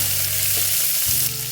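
Green chillies and onion sizzling in hot oil for a Kerala-style egg curry: a dense, continuous frying hiss, close and loud throughout.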